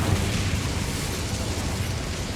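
An Incendio fire spell cast in Hogwarts Legacy inside a mine makes a loud, dense burst of roaring flame, a continuous whooshing rush that sustains evenly for a couple of seconds.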